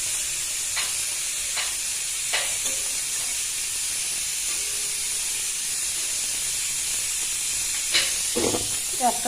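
Vegetable chops coated in breadcrumbs deep-fry in hot oil with a steady, even hiss and sizzle, broken now and then by brief clatters from a utensil and occasional faint sounds.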